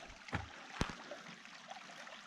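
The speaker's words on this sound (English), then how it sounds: "The sound of running water." A small creek under a footbridge in Yellowstone National Park flows with a faint, steady wash of running water, broken by a couple of soft knocks, distant and quiet with no speech.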